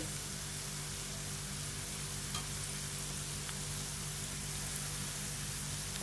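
Turmeric and chili powder sizzle steadily in hot oil with browned onion and garlic while cooking a prawn and taro-stem curry, a continuous close frying hiss with no talking.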